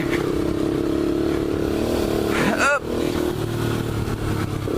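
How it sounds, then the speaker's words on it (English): A Honda CRF 70 dirt bike runs on a track, its small engine giving a steady, fairly loud drone with slight rises in pitch, and a short voice cuts in partway through. "he's on the track with my little CRF 70, which is the first dirt bike that I ever bought"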